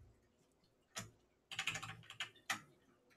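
A few quiet keystrokes on a computer keyboard while a command is entered in a terminal: one isolated tap, then a quick cluster of clicks and a final sharp keypress, close and faint with no talking.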